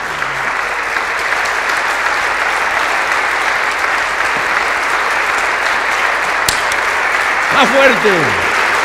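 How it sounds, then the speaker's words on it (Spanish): A church congregation applauds Christ, steady sustained clapping filling the room from start to finish, with a brief spoken phrase heard over it near the end. "Le damos un aplauso a Cristo."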